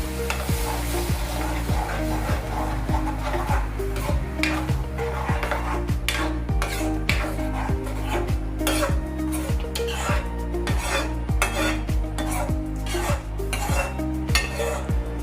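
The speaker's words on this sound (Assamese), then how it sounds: "আৰু এতিয়া মই ইয়াতে পচলাখিনি দি দিম আৰু অলপমান ভাজি ল'ম ভালদৰে।" Chopped banana stem being fried for an Assamese khar curry, with a spoon scraping and stirring it around a pan in quick repeated strokes over a steady sizzle, set against continuous background music.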